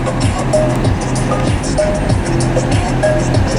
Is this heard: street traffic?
yes